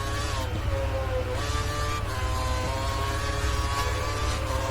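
Racing car engine held at full revs in a Formula 1 video game, a steady high-pitched drone with harmonic whine sustained throughout, close and continuous with no talking.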